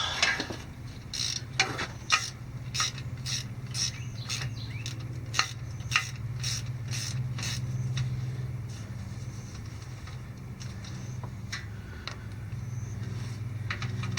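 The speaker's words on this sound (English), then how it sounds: "These are 1/2-inch bolts. Just simply go around, loosen them all up." Ratchet loosening half-inch bolts on the rear differential cover of a 2018 Ford F250 6.7: repeated sharp clicking ratchet strokes over a steady low hum, close and irregular.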